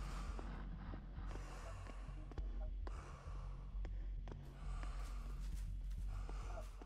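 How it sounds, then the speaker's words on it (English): Heavy, labored breathing from a character in the horror game My Girlfriend is a Killer!, with repeated snort-like inhales and gasping exhales over a steady low hum, close and continuous throughout. "heavy breathing here"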